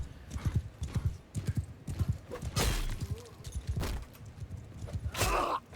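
A horse in the video game Mount & Blade II Bannerlord, with rhythmic clip-clop hoofbeats at a walking pace and brief snorts and whinny-like breaths, fairly close and moderately loud.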